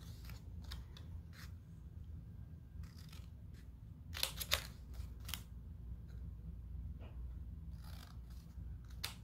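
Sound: scissors cutting paper along fold lines

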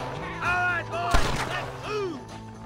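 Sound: gunshot in the video game Red Dead Redemption

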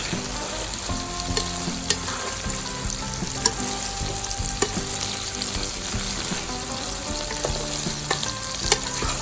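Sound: stir-frying holy basil leaves with shallots in a pan

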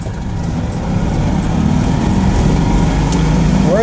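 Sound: Citroën Dyane car accelerating in top gear

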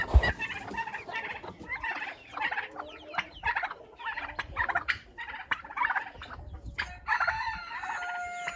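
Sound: chickens clucking and rooster crowing

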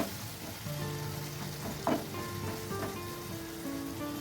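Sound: stirring raw banana and green bean curry in a pan

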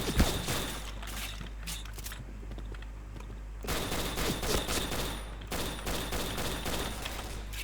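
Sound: gunfire in the video game Point Blank

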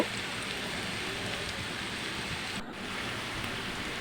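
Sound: onions frying and being stirred in a pan

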